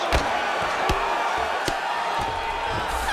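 A crowd cheers and roars in a UFC 5 fight-night arena between rounds, a steady wash of noise broken by a few sharp slams and shouts.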